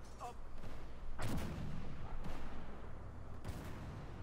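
Tank guns fire in the armored combat video game Armored Warfare, with several loud booming shots spaced about a second apart over a rumbling battle background.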